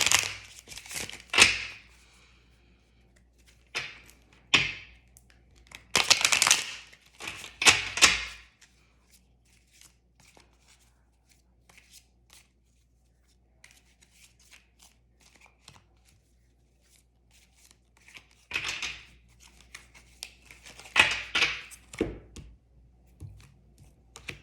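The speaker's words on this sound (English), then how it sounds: "just shuffle the deck a little bit more so we can pull a card" A tarot card deck is shuffled for a card pull in several separate bursts of riffling and crisp card slaps, close and fairly loud, with quiet pauses between them and no talking.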